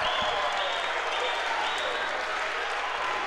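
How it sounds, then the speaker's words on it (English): An indoor men's college basketball crowd cheers and applauds after a senior hits a three, a dense, steady roar of clapping and shouting that fills the whole short stretch at an even level. "This Storm crowd has come alive."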